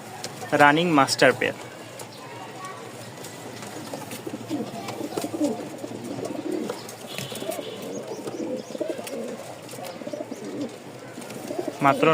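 Pigeons cooing among several pairs kept for sale, a steady low murmuring coo running throughout at moderate level, with a voice speaking briefly near the start and end.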